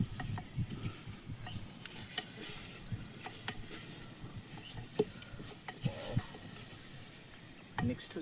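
Ginger being stirred in a hot frying pan for a poha curry, a soft continuous sizzle with intermittent scrapes and taps of a spoon on the pan, close and fairly quiet.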